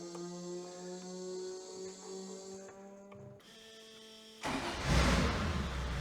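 Car engine cranking with a steady whirring starter tone that hums and drops, then a louder, rougher mechanical roar bursting in near the end as the engine struggles to catch.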